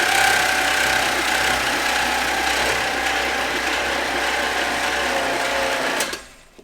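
A junkyard small-block V8 that sat for 29 years, with its valve covers off and a lifter not pumped up, is cranked over in a fast, steady mechanical whir with ratcheting clatter for about six seconds before it stops abruptly.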